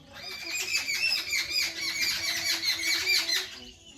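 A cluster of birds squawks and squeals continuously and rapidly at their nest, sounding close by, with no pauses until the calls trail off at the end.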